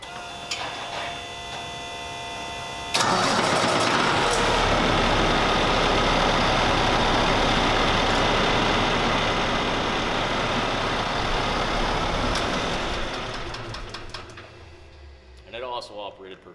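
A Cummins ISX diesel truck engine cranks and catches abruptly, then runs loud and steady at a raised idle with the PTO engaged, close by, before quieting near the end.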